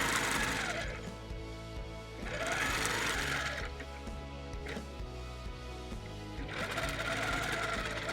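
A sewing machine quilts stitches across a bird panel quilt, running in steady rhythmic bursts that pause and restart several times, fairly close and clear.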